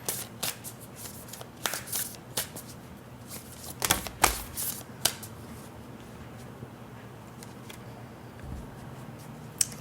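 Black Moon Astrology tarot cards are shuffled close by, a run of crisp riffling flutters and irregular sharp card snaps over faint room noise, with no talking.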